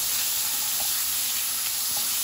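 Long slices of eggplant sizzle in a hot pan as a steady, close, even hiss with a few faint pops, with no voices.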